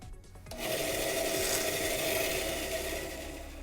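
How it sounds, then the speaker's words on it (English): A table saw cuts a 45-degree bevel into the end of a piece of wood, a steady loud close whine and rasp holding for about three seconds after a brief spin-up. "I just want to put a 45-degree bevel onto the end of"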